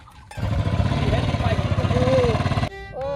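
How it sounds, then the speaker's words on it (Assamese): A motorcycle engine runs with a steady, pulsing mid-pitched rumble for a few seconds, then cuts off abruptly, followed by faint voices. "এইটো বাইক চলাই আছে"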